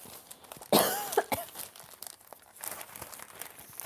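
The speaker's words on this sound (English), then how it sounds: "My cough is still there." A single sharp cough up close, followed by a couple of smaller throaty coughs and rustling, in an otherwise quiet room.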